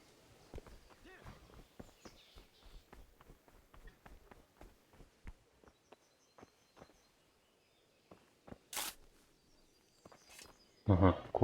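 Horse hooves clip-clopping in Kingdom Come: Deliverance, a run of sharp quiet hoofbeats in an irregular walking rhythm with faint birdsong and a few louder knocks near the end, alongside talk.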